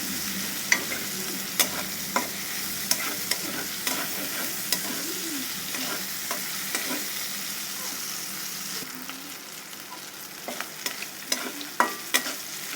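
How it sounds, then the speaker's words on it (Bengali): Prawns with potato, aubergine and coriander frying in a pan while being stirred, a steady close sizzle broken by repeated sharp scrapes and clinks of the spoon, with no voices. "আমাদের মাছগুলো দেখেন সুন্দর ভাজা হয়ে আসছে"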